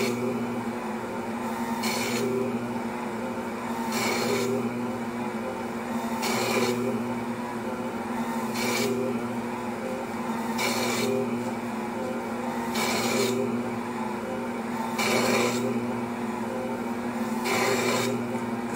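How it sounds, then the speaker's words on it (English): An Ankarsrum mixer's dough hook works a big batch of bagel dough, steady motor hum underneath as the hook scrapes the side of the bowl in regular rasping strokes about every two seconds. "Scraping noise is the hook hitting the side of the bowl."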